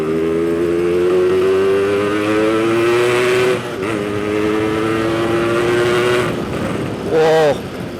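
A nearby Yamaha RX King two-stroke motorcycle revs and climbs in pitch through the gears, a buzzing whine with brief drops at shifts, loud and sustained.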